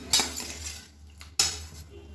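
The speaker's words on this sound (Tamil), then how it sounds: "நல்லா கலந்து விட்டுருவோம்" A metal spoon clinks against a pot while paneer kurma is stirred in a pressure cooker, giving two sharp scraping taps separated by a soft shuffling pause, close and fairly quiet.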